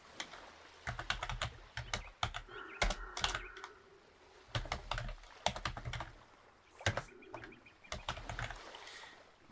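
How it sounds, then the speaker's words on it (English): Credit card details being typed on a computer keyboard, close and clear, in several short bursts of quick keystrokes separated by brief pauses, with no talk. "Just gonna type in everything and the name on the card."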